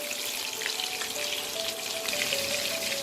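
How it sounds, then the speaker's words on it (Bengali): Potatoes frying in oil with a pinch of salt give a steady, close crackling sizzle that runs unbroken and fairly quiet throughout, with a faint thin tone above it and no talking. "সামান্য একটু নুন দিয়ে আমি আলুটাকে ভেজে দেবো।"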